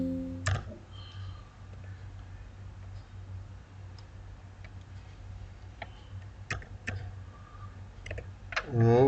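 Fingers type on a computer keyboard while entering a PLC program, with scattered single clicks and short bursts of keystrokes, fairly close and quiet, over a low steady hum.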